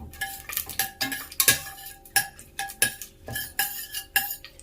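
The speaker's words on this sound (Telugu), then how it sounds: "బిర్యానీ ఆకు 1, ఇంకా మసాలా దినుసులన్నీ యాలక్ బుడ్లు, చెక్క అన్నీ దీంట్లోకి వేసి కొద్దిసేపు ఫ్రై చేసుకోవాలి." A spoon clinks and scrapes against a pan as bay leaf, cardamom and cinnamon are stirred in hot oil, with sharp metallic taps repeating in an uneven rhythm, close and clear.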